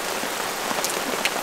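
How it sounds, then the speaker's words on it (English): Heavy rain pours down in a dense, steady hiss at a campsite beside Wellington Dam, Collie, close and loud, with a few sharper drops spattering on a surface. "This rain is coming in hard now."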